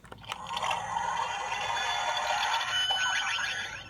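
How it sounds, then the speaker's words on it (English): A Bugster virus infection effect from a Kamen Rider Ex-Aid Gashacon Bugvisor toy plays, with a dense, buzzing, glitchy whir that swells and holds for a few seconds before fading, heard alone. "That noise is the infection noise for the Bugster virus."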